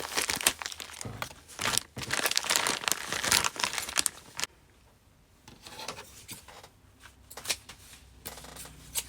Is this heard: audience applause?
no